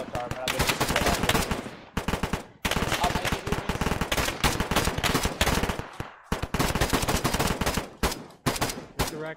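Dense, nearly continuous machine-gun and rifle fire in the military shooter ARMA 3, rapid close bursts broken by a few brief pauses, with faint voices under the shooting.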